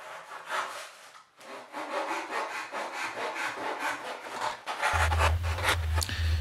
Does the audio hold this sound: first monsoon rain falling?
no